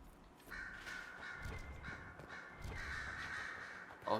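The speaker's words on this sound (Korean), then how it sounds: "까마귀 소리가." A crow caws in Dragon Age: Inquisition, a few harsh calls repeating over a quiet game ambience, moderately close and alone without talk.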